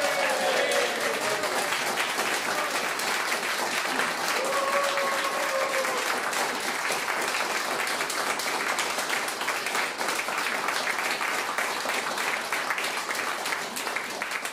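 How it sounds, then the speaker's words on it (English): Another big round of applause for the Continuum Chamber Choir in St Mary's church, Perivale: dense, sustained clapping from the audience filling the space at an even level, with faint voices underneath. "I think they deserve another big round of applause"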